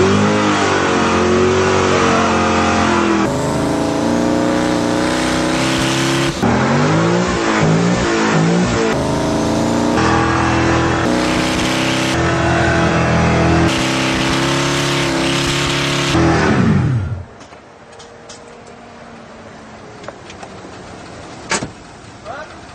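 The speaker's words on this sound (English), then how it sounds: "What we're about to do is roast off the back of the tires of our 2007 Z06 Corvette." A 2007 Chevrolet Corvette Z06 revs hard in a sustained, loud roar while burning out its rear tires, engine pitch rising and falling for about seventeen seconds before cutting off abruptly, followed by quiet with a few faint clicks.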